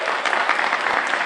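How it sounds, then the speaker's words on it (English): Audience at a student symposium on cultural revolution breaking into steady, dense applause, a continuous wash of many hands clapping at close range with no talk over it. "Let's give them a round of applause."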